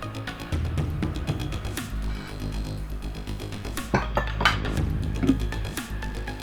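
Fresh mint leaves pounded by hand in a kitchen for a biryani onion raita, a steady run of dull thuds and clinks of utensil against vessel, close and fairly loud throughout.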